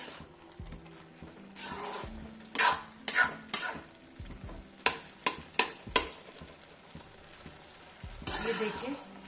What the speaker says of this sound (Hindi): हमें लगातार चलाते रहना है।